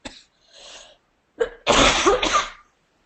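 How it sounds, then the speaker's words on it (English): A person coughs and sneezes close up: a short cough, a quiet breathy pause, then a loud, forceful burst before silence. "I don't do in-ear coaching sessions when I have a cough like this."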